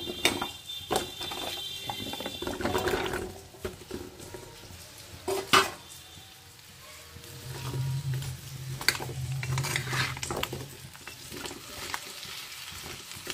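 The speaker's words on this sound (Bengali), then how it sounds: "ওল কচুগুলো আমি কিন্তু একটু তেলে ফ্রাই করে নেব" Elephant foot yam pieces frying in a little oil in a pan, with a soft sizzle under repeated metal clatter of a spoon stirring against the pan, close and fairly loud.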